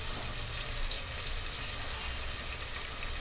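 Curry leaves crackle and sizzle in hot oil over softened tomato while cooking masale bhat, a Maharashtrian spiced rice, a steady close frying hiss with no talking.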